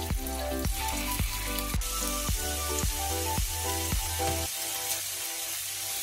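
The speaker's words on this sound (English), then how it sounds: "shallow fry our prawns" Prawns shallow frying in hot oil in a pan, a constant close crackling sizzle with regular sharp clinks from a utensil against the pan.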